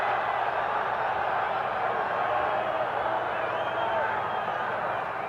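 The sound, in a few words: football stadium crowd yelling defense for Georgia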